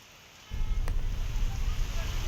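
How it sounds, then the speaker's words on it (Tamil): Light rain driven by strong wind around Tambaram on a summer day, a steady broad rushing roar that starts abruptly after a quiet half second and keeps going loud and close. "தொடர்ந்து மழை பெய்து வருவதால் ஒரு குளிர்ச்சியான சூழ்நிலை தற்போது நீடித்து வருகிறது."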